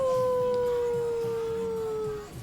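A dog gives one long, steady howl that holds for about two seconds and then fades out. It is loud and close in a workshop setting, with no talking over it.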